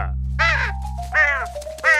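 A cartoon bird caws three times in harsh, nasal calls, evenly spaced and loud, over a steady low background hum.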